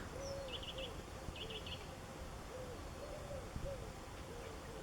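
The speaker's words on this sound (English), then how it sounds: "And the birds singing as well." Birds calling outdoors in the early morning, with repeated soft hooting notes and brief higher chirps scattered over a steady background hush, fairly distant and moderately faint.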